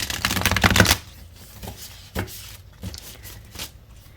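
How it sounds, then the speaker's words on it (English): A deck of tarot cards is shuffled by hand, a dense papery riffle for about a second, followed by a few scattered soft card taps and slides, close and fairly loud. "let's give it a good shuffle"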